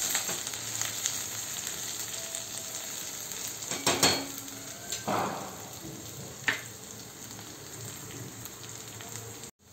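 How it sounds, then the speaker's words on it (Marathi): Peas sautéing with chopped onions in a pan give a continuous soft sizzle, with a few sharp spatula scrapes and taps around the middle, close-up and moderate in volume, no voices. "आता मटार देखील या कांद्यामध्ये आपण छान परतून घेऊया"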